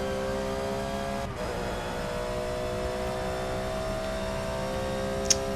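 GT race car engines in Forza 6 during a Rolex 24 race with a Corvette and Lamborghini, a continuous loud engine whine holding steady pitch, with a brief dip early and a sharp click near the end, no talk.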